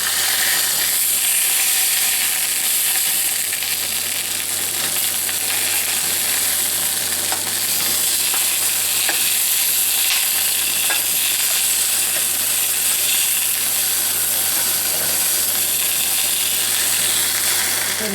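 Sausages browning over medium heat in a Griswold cast iron skillet, a continuous even sizzle with faint crackles and a low steady hum underneath, close and unbroken.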